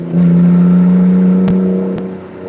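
A BMW with a straight-pipe exhaust is held at full throttle, its loud, droning engine note rising steadily up close, with two sharp clicks near the end before the sound starts to fade.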